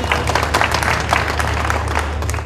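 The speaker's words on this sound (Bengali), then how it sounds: "জোরে একটা করতালি আর টিভির জন্য" Sustained applause from a studio audience at a Bangladeshi comedy drama event, steady dense clapping filling the whole stretch with no talk over it.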